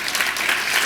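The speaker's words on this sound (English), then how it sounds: "You can clap. It's okay." Audience applause at a talk on the Stevens Creek restoration plan, a short dense burst of clapping from a crowd filling the room.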